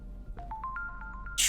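A phone rings in a horror video game as a faint series of short, evenly spaced electronic tones that step upward in pitch, then a sudden burst of noise cuts in at the end.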